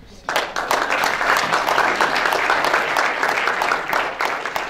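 Audience applause for a guest speaker named Jerome at an evening career forum, a dense steady wash of many hands clapping that starts abruptly and holds at full strength throughout.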